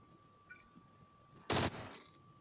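A single short burst of video game gunfire rings out loud and sharp amid quiet background, then fades quickly.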